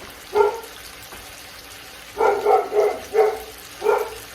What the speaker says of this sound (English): Y'all can hear my dog.